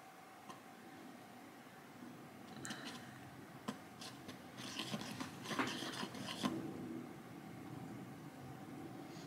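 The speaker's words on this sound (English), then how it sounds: "So I'm gonna gently mix it with a whisk right here." A whisk gently stirs a sugary flour and milk mixture, making soft, irregular scraping and rubbing sounds with light ticks against the bowl. The sound is quiet and builds slightly toward the middle.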